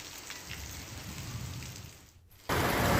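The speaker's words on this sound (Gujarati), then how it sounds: "અમરેલી તાલુકાના નાના ભંડારિયા ગામમાં ભારે વરસાદ નોંધાયો।" Heavy rain falling in the village of Nana Bhandariya, Amreli taluka, a steady broadband downpour that dips briefly before surging louder and closer near the end.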